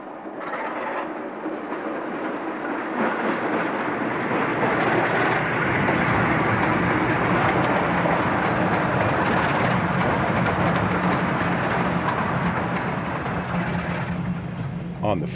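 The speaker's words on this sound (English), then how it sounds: "Next, an eastbound brings a pair of EMD" An eastbound Reading Railroad freight train led by a pair of EMD GP35 diesel locomotives rumbles past at close range, a loud sustained roar of engines and rolling wagons lasting throughout.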